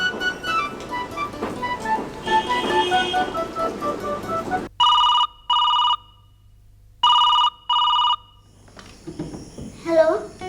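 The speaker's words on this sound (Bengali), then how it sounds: "আমি একটা ফোন করি" A telephone ringback tone sounds after a call is placed, two pairs of clear electronic rings separated by a pause, heard alone after a stretch of louder background sound.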